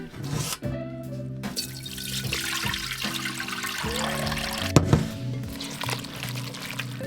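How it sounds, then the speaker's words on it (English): Fresh water runs and splashes while salted cabbage for kimchi is rinsed in a sink aboard a narrowboat, giving a steady gushing pour with sloshing, dripping and a couple of sharper knocks close by. "So I need to rinse this really, really well with fresh water and get all the salt off it"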